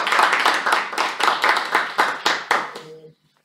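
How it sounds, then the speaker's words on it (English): A small group at a Toastmasters club meeting claps in a brief burst of about a dozen sharp, close handclaps, ending abruptly in silence. "she needs a clap for that"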